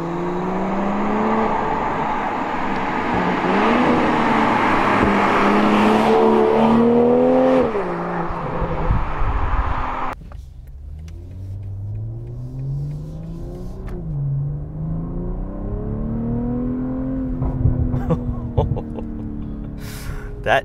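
A 2023 BMW M340i engine on a test drive roars loudly under hard acceleration with rising and falling revs, then settles into a quieter, steady cruising drone that swells again near the end.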